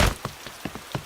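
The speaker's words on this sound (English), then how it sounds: "The rain's too heavy to play in now." Heavy rain in a Peppa Pig cartoon, heard as a short burst of patter with a handful of spaced drop-like taps over a soft hiss, fairly quiet and with no voices.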